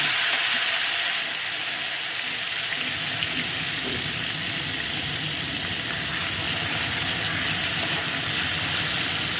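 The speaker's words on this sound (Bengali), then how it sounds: "আলুটার মধ্যে কিন্তু আমি নুন আর হলুদ মাখিয়ে রেখেছি আস্তে করে এটাকে ছেড়ে ভেজে নিচ্ছি" Potatoes rubbed with salt and turmeric fry in hot oil, giving a loud, continuous close sizzle and hiss that holds steady from start to finish with no voices.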